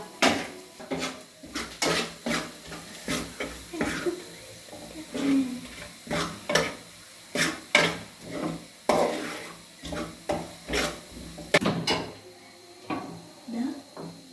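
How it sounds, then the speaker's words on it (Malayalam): Spoon or spatula stirring beans, ginger and curry leaves in a pan, heard as a steady run of close scraping and clinking strokes of varying strength with no talking. "ശേഷം ബീൻസ്, ഇഞ്ചി, കറിവേപ്പില എന്നിവ ആഡ് ചെയ്തിട്ട് നല്ലോണം ഒന്ന് ഇളക്കി കൊടുക്കുക"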